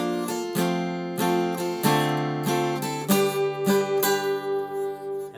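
Acoustic guitar strumming chords in a down-up pattern, warm close chords changing every second or so, alone with no talking.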